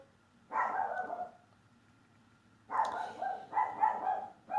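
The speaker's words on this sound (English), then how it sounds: "Sorry about the dog barking." A small dog barks indoors in a working household, two separate bouts of sharp yappy barks, the first a single bark and the second a quick run of three or four, fairly close with no talk over them.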